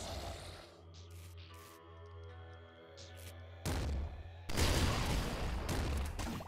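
Gunfire from the video game Nuclear Throne, played with a bouncer flak cannon: scattered bursts of shots and booms over a low droning game soundtrack, growing denser and louder toward the end.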